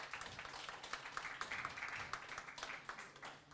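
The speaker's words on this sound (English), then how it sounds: "a big round of applause to Xavier and Antonia for Giant Swarm" A conference audience applauds the speakers with a soft, steady patter of many hands clapping together, heard faintly from a distance.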